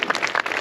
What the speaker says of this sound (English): So give them all a round of applause for their care for these wonderful animals.